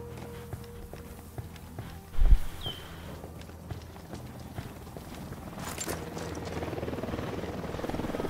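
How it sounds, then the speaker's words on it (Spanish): Helicopter in the video game Ghost Recon Wildlands, a steady rotor thrum growing louder toward the end, with a brief thump early on and game footsteps, no talking. "Un helicóptero. Que no os vea."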